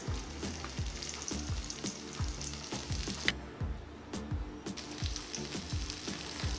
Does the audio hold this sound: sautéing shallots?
yes